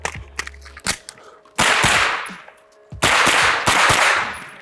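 Several loud, sharp gunshots crack out close by on a shooting range with brief gaps between them, each followed by a quick ringing decay, with quieter clicks and knocks in between.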